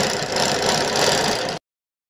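A sewing machine stitches kurti fabric with a steady, close motor hum and a light rattle for about a second and a half, then cuts off abruptly into silence.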